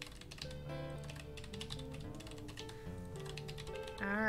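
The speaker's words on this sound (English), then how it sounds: "Frantic typing." Frantic typing on a computer keyboard produces a rapid, uneven clatter of keystrokes set against steady background music, with no one speaking.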